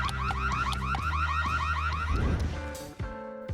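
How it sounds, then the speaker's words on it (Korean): A loud electronic alarm wails in rapid repeating sweeps, continuous for a few seconds before cutting off abruptly near the end. "빨간 알람! 전투를 준비해."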